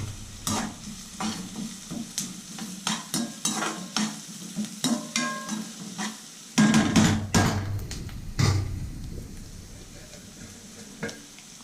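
Curry leaves sizzle and crackle in hot oil in a pan while being stirred, with steady frying hiss, scraping stirs and sharper pops growing louder partway through, close by and with no talk.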